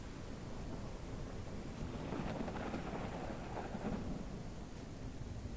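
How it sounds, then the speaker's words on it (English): Steady rain with low rumbling thunder in the Ranch Simulator video game, a continuous, fairly quiet wash of rainfall with a rolling rumble underneath and no talking. "Don't forget, it's raining outside."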